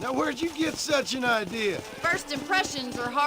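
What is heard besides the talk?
No everyday noise stands out behind the speech.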